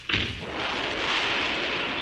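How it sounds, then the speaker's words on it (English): A gunpowder explosion sound effect from a 1930s radio comedy opens with a sharp thump and then swells into a sustained roaring rumble and hiss that stays loud for about two seconds. "Say, Miss Flunk, what was that explosion?"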